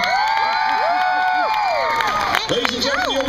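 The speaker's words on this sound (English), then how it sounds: "How many of you like Derivamp?" Audience at a Funniest Citizen of Hollywood contest at Disney World cheering and applauding, a broad crowd roar with claps and shouts, while people speak over the noise.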